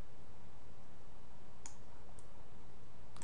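A few crisp computer mouse clicks, three short isolated ticks spaced apart over a low steady background hiss. Faint and close, with no talking.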